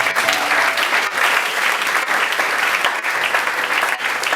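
A church congregation applauds and cheers together in a sustained, dense wave of clapping that stays loud and steady throughout, with a few voices calling out within the crowd noise.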